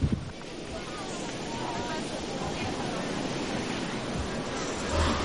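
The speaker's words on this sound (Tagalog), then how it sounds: "nasa 3 to 5 meters nga ang taas ng alon" Large ocean waves, about 3 to 5 meters high, crash against a damaged town breakwater, a steady loud roar of surf mixed with wind buffeting the microphone throughout.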